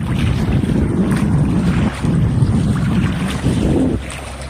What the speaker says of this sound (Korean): 여기 바다, 파도, 파도, 파도 구경